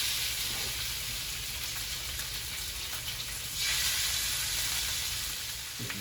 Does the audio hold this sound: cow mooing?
no